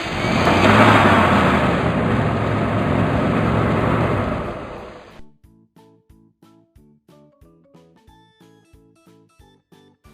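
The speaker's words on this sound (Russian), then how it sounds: "Грузовой автомобиль." Truck engine revving in a loud, broad roar for about five seconds that fades out into a quiet, rhythmic plucked tune.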